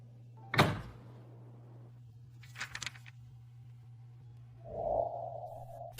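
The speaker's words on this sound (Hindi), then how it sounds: "दरवाजा बंद करो।" A door swings shut indoors with a sharp thud, followed later by faint rattles and a soft muffled bump over a steady low hum.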